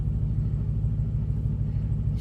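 A yellow Chevy Camaro engine rumbling nearby, a loud, steady low throb that holds without a break.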